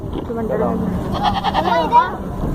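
Goats bleat at a bakra mandi livestock market in Sohrabgoath, wavering calls rising over steady crowd talk and nearby voices throughout.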